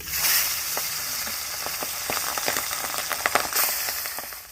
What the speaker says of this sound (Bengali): একে সব মাছগুলো ভেজে নেব